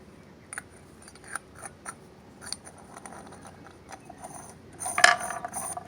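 Small metallic clicks and scrapes as a nut is fitted onto a 3/4-inch Broomell vapor steam heating radiator valve, sparse and quiet, ending in a brighter metal clink.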